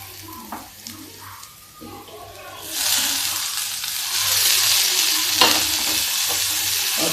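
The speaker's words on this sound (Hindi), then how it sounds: "और इसको हम प्याज को हल्का गुलाबी होने तक फ्राई करें।" Onions frying in a pan for a lauki bharta sizzle with a quiet start and faint clinks, then the sizzle surges loudly at about three seconds and stays strong, rising again slightly toward the end.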